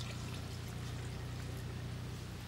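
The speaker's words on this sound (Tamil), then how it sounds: "இப்போ தக்காளி வெங்காயம் எல்லாமே நல்லா வதங்கிட்டு கொஞ்சமாக தண்ணி ஊற்றுறோம்." A little water poured into a pan of sautéed tomato and onion masala while making a village-style quail gravy, a steady close pouring and sizzling hiss lasting a couple of seconds.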